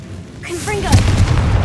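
Confringo blasting curse going off in Hogwarts Legacy, a sudden heavy boom that swells into a rumbling, sustained blast after a brief quiet lead-in, with a voice briefly heard at the start.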